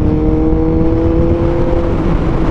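Kawasaki ZX-14R sport motorcycle fitted with a titanium Red Exhaust, engine held at a loud steady rev with a smooth droning tone, close up and alone for a couple of seconds.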